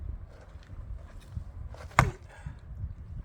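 Firewood being split for a wood-fired boiler: one sharp, woody chop lands in the middle over quiet, low outdoor background noise.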